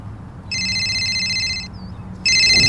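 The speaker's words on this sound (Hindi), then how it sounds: "अबे फोन बज रहा है कहीं पर।" A telephone rings with a bright, repeating electronic ringtone in two bursts separated by a short pause. It is fairly loud and close, and nobody speaks over it.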